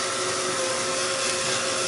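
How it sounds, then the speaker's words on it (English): A hair dryer blows steadily up close to dry sumi ink dots on paper, a continuous whooshing motor drone with a faint tonal whine, alone without speech. "just a quick hit with the dryer on these"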